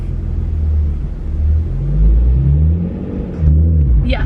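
The engine of a stick-shift project car rumbles low and close, with gas applied in several uneven rises and dips as the revs are held up, alone without talk.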